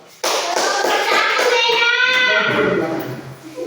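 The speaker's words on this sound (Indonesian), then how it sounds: "Tepuk tangan untuk kelompok 1" Children in a primary school classroom applauding for a group, a sudden burst of clapping mixed with excited young voices that stays loud for a few seconds before tapering off.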